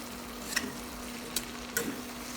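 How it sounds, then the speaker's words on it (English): A few light sizzles and clatters of mushrooms and tomatoes stirred in a hot pan, with a steady low hum underneath. "Keep stir-frying until the mushrooms are aromatic"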